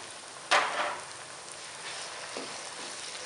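Pounded pickle spice, green chilies and chopped tomatoes hitting hot oil in a pan, a sudden loud sizzle burst that settles into a steady crackling fry, with a softer second hiss a couple of seconds later.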